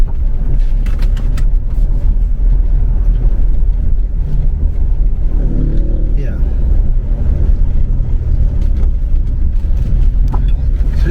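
A Ford Ranger Wildtrak diesel engine hums low and steady from inside the cab while driving through city streets, a quiet continuous drone with faint road noise throughout.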